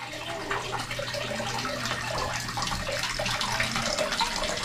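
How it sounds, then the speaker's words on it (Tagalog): Water runs steadily from a tap for bathing, a continuous near hiss and splash with no pauses, close by and alone. "Papatulo lang ako ng tubig."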